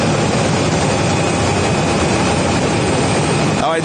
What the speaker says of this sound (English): there's a Dreamliner, a couple of Dreamliners over there